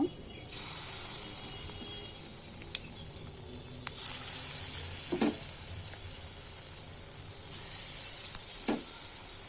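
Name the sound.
banana batter frying in hot oil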